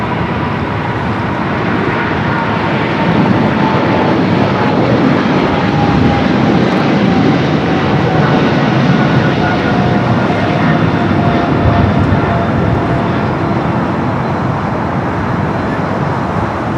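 A British Airways Boeing 777-300ER rolls for takeoff on runway 25 Right at LAX, its jet engines a loud, steady broadband roar that holds constant throughout, with faint traffic noise beneath.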